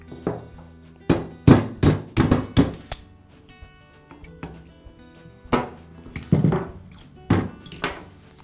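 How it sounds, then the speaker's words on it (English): A hammer taps a punch to drive roll pins out of the trigger valve of a DeWalt nail gun, giving sharp metallic strikes in two clustered bursts of five to six blows, loud and close, separated by a quiet pause. "The trigger valve is held in place with two roll pins, and I'll drive those out with the punch."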